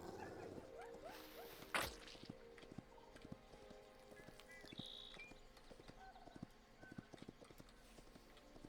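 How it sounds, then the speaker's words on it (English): Horse hoofbeats clip-clop steadily in a riding rhythm in the video game Hytale, a brisk repeated clatter of hooves close by, with a short sharp whoosh early on and small game effects scattered over it. "I'm gonna go take my horse back."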